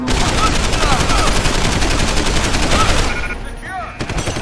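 Sustained rapid gunfire from the video game Deus Ex Human Revolution, a loud continuous automatic burst that tapers off near the end, followed by a single sharp shot.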